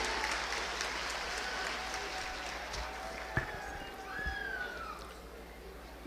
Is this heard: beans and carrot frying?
no